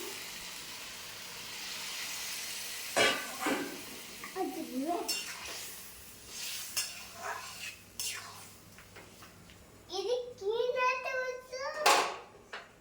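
Jackfruit and shrimp curry being stirred in a pan after a little water is added, with soft sizzling and scraping under a voice talking, brief clinks of utensils and a voice near the end.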